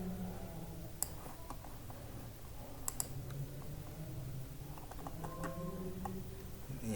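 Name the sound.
typing example code on a computer keyboard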